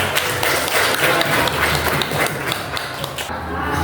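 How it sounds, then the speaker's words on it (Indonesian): Students in a classroom at a teacher-training session on Quran memorisation give a short round of applause: a busy patter of clapping hands that tapers off toward the end. "tepuk tangan buat ini"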